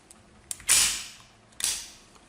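A Vzor vz. 70 pistol in 7.65 mm gives two sharp metallic trigger-and-hammer snaps about a second apart, each with a short, bright mechanical ring, heard close up and alone.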